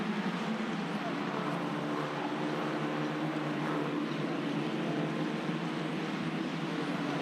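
Formula 4 race cars rounding turn 14 at Sepang circuit, heard as a steady, dense engine drone from the chasing pack passing at a distance, with commentary voices over it.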